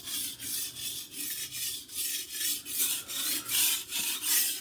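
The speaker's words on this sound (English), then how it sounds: "I find my angle and I pull the knife towards me" A kitchen knife is drawn across a whetstone in about a dozen rhythmic, even rasping strokes, close and clear with no talking.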